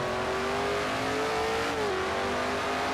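A race car engine in a racing video game drones loudly and continuously in first gear through a slow turn at about 38 mph, its tone dipping slightly and then rising again.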